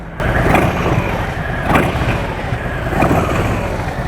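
An air-cooled big-twin motorcycle engine runs close by with a steady, rumbling drone, and its intake breathes louder in a few brief swells as the throttle is opened, with no talking.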